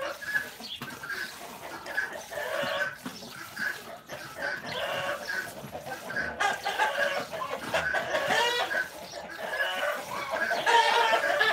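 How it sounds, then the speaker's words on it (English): Hens in a farmyard cluck and squawk in a loud, excited chorus after one of them has laid an egg, with repeated calls overlapping steadily and building toward the end. "one chicken laid an egg over there, and then let the rest of them know that she laid an egg"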